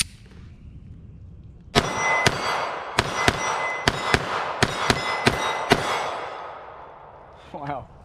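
A Sig Sauer P365 .380 pistol fires about ten sharp, loud shots in quick succession on a range, followed by a brief voice.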